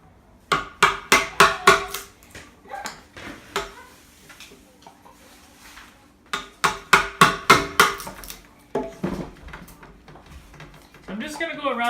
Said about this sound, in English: I'll chisel this out and kind of smooth it.